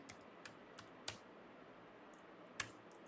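A few sparse, faint keystrokes from a computer keyboard while code is typed, with isolated sharp clicks spaced irregularly over a quiet background.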